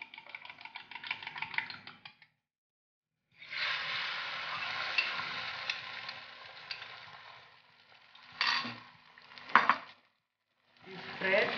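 An omelette fries in a little oil in a pan, giving a steady close sizzle that stops briefly partway through, then returns with a few sharper bursts of stirring and scraping toward the end.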